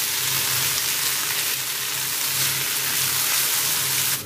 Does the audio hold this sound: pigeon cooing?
no